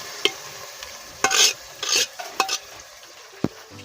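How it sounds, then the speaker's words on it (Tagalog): Boiled mung beans are sautéed in a pan with ginger, producing a few scattered scraping stirs and soft sizzling bursts, close and fairly quiet. "Gisa ko na po yung nilaga kong munggo"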